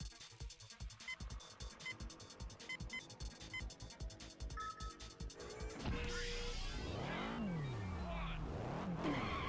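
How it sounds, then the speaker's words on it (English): Racing game car in San Francisco Rush 2049 Tournament Edition, the 8-ball car, with looping game music, then a loud engine and tumbling crash sounds with sweeping tones near the end. "This is the 8-ball car"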